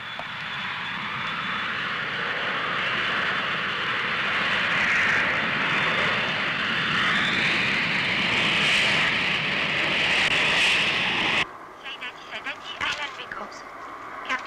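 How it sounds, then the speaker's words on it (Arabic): A Boeing airliner in flight on a route to Tunis-Carthage airport: a loud, steady cabin roar of engines that holds for about eleven seconds, then cuts to quieter sounds with brief voices. "وطقم الطائرة يرحبون بكم على الطائرة بوينج جيرمان"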